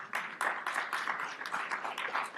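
Audience applause at a Jamaican passport and immigration agency event, a moderate crowd clapping in rapid uneven bursts for about two seconds, fairly distant and without talk.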